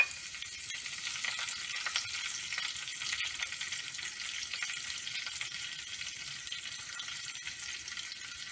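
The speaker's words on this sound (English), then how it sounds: "We'll add the curry patta." Curry leaves sizzle and crackle in hot oil in a home kitchen, a steady, quiet, fizzing fry with small pops running throughout, nearby and without talk.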